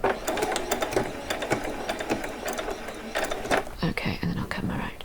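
A sewing machine runs a short back stitch on saree fabric for a doll, giving a fast mechanical clatter of needle strokes with brief pauses and someone speaking quietly over it.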